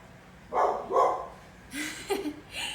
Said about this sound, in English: wait for Lassie to stop barking